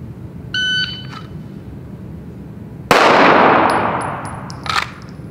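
A short electronic beep sounds, then after a pause a single loud, sharp pistol shot, fired after a fast holster draw, cracks close by and rings out in a long decaying echo.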